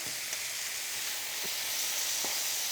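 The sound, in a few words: onions and bulgogi pork sizzling in pan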